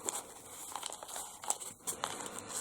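Artificial leaf pressed onto glue on a Christmas wreath, giving soft crinkling and rustling throughout, close and quiet, with no speech.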